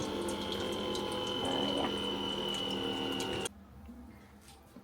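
A new Nespresso coffee machine runs its first-use descaling cycle, a steady mechanical pumping hum with a faint whine that cuts off abruptly near the end, leaving a quieter background; a brief spoken word is heard.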